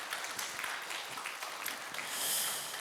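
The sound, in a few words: congregation applause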